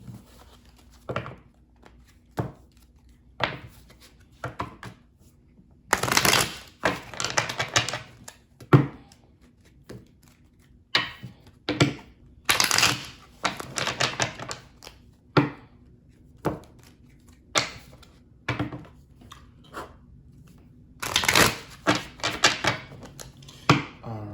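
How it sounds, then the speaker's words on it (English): Repeated crisp riffling and tapping bursts of shuffled tarot cards, irregular in rhythm, some louder flurries among quieter taps, close by with no talking. "let's go ahead and get these cards shuffled"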